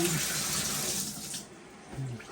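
Water gushes from a bathtub faucet after a tub and shower valve rebuild, a steady loud hiss of running water that softens briefly near the end.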